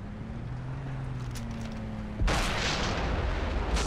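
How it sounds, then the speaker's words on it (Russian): A sudden, heavy explosion in the video game Far Cry 3 bursts in after a low steady background hum, then sustains as a dense, roaring rumble. No voices are heard. "Ты видел этот взрыв?"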